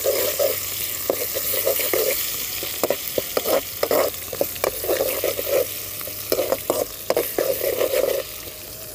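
Onions with ginger-garlic paste and a bay leaf frying in a pan, a steady close sizzle broken by frequent scraping stirs and clatters throughout, with no one talking.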